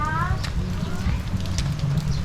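Rain falls steadily on the eaves of a homestead, a dense continuous patter with low rumbling, with no talk over it.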